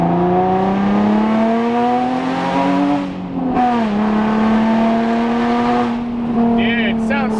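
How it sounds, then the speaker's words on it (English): Nissan 350Z with test pipes, engine and exhaust droning loudly at a steady pitch with small rises and dips in revs, close and continuous, with people talking over it. "it sounds so good with test pipes, man."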